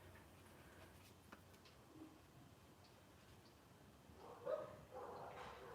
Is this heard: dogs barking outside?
yes